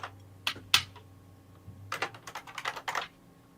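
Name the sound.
typing on a computer keyboard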